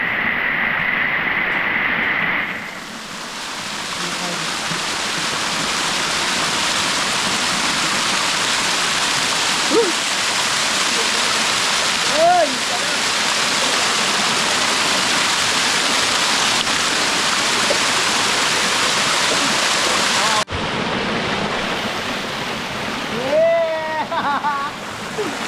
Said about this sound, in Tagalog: Bosai Falls